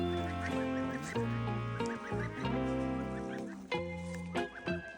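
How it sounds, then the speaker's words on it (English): Goslings peeping and chattering in quick, high overlapping calls, close and fairly quiet, as they are moved to a new home on a farm. "Goslings. Come on, guys."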